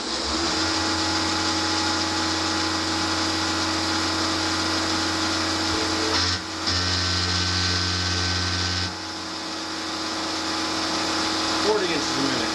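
A PM30 milling machine cuts into metal at 5,400 RPM with a steady, loud, tonal spindle whine. The pitch and load shift partway through, and a voice speaks over it.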